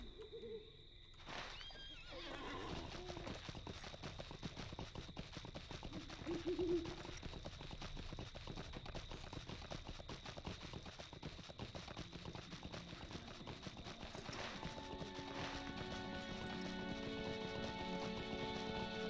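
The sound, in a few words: horse hooves clip-clop while riding, from video game LOTRO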